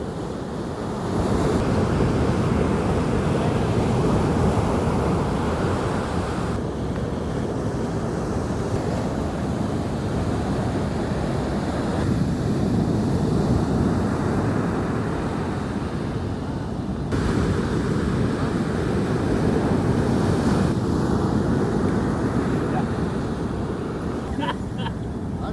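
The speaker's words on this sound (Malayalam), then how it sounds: "അതിമനോഹരമായ സുന്ദരമായ കടൽപ്പുറമാണിത്." Sea waves wash steadily onto a beach where anglers fish, a continuous roar of surf mixed with wind buffeting the microphone, loud and sustained throughout.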